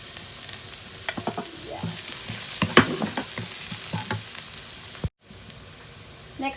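Garlic sautéing in a pan for a shrimp paste dish with cherry tomatoes and sliced pork gives a steady close sizzle, broken by stirring clinks and scrapes. A voice speaks one brief word, and the sound cuts out briefly near the end.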